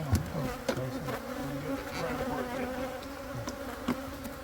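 Bees buzz steadily around an open beehive during an inspection, a dense close hum with occasional louder passes near the listener.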